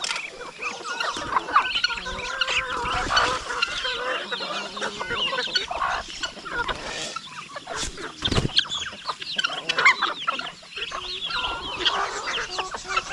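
Chickens cluck busily at feeding time among mixed backyard poultry, including ducks and pigeons, forming a continuous, close chatter of overlapping clucks and chirps.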